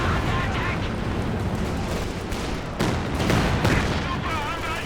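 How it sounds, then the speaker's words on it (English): An artillery barrage in a Company of Heroes 2 two-versus-two match: continuous rumbling blasts and crackling impacts, dense and loud, with someone talking over the bombardment. "Caddy barrage again."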